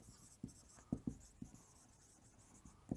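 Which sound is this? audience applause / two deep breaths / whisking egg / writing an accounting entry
writing an accounting entry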